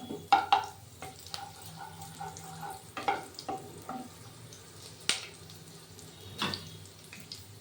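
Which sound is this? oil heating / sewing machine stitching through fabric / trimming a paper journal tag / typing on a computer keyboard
oil heating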